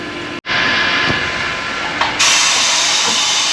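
Ford Ranger Wildtrak tyres on 20 inch alloy wheels being pumped back up with compressed air, a loud, steady close hiss that carries on throughout with a brief cut early on and a brighter, louder rush after the midpoint.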